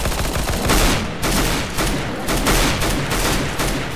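Rapid, continuous gunfire bursts, loud and close, with a few brief pauses between volleys; no talking.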